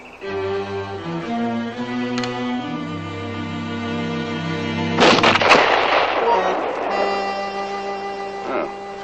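A single loud gunshot bursts out near the middle of a scene in a 1958 Disney western film. It cuts through sustained orchestral music that plays before and after it.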